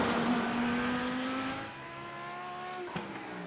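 Chevrolet Corvette GT3 race car engine in the iRacing sim, a steady droning tone with rising and falling harmonics as the revs shift, heard alone at moderate loudness with a brief click near the end.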